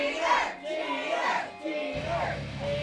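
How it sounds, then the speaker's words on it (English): Wrestling crowd at a live MWO Showdown event jeering the winner, rising and falling waves of shouting and booing from many voices filling the hall. "And the crowd calling him out."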